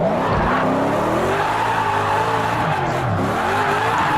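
A Ford Mustang RTR drift car in Project Cars 2 slides with sustained tire squeal and skidding over a wavering engine note that rises and falls, loud and continuous throughout.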